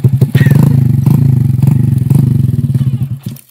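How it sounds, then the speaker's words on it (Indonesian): A motorcycle hauling palm oil fruit shifts into first gear, its engine chugging close and loud with a rhythmic idle before it sputters and fades. "ini dia Bang Joynya sedang memindahkan gigi satu"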